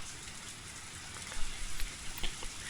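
Heavy rain from the Higurashi video game pours as a dense, continuous hiss with scattered louder patters, a steady close wash of sound with no speech.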